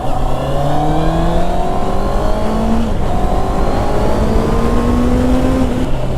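A 2020 Honda CBR650R motorcycle pulls hard under acceleration, its engine note rising steadily through the gears with rising harmonic whine, loud and close alongside steady wind rush.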